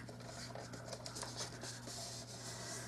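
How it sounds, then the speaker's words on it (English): A bone folder rubs down a paper fold for a small handmade gift mini album, giving faint, soft scratchy strokes over a low background hum. "I'm just going to burnish that down."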